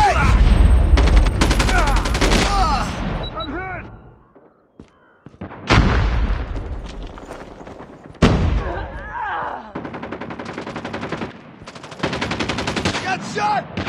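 Rapid automatic gunfire and single shots crackle through a Call of Duty multiplayer match, with loud bursts, brief pauses and renewed volleys while voices call out amid the fighting.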